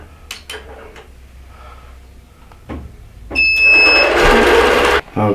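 An embroidery sewing machine beginning a design, first a few short clicks and beeps, then a loud, rapid, steady whir of stitching for about two seconds before it stops abruptly and restarts briefly.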